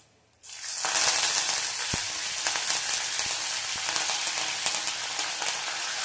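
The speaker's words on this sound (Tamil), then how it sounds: "இது ரெண்டும் நல்லா பொரியணும்." Oil sizzles and crackles steadily after a quiet start, a dense hiss with scattered pops, close and continuous with no talking.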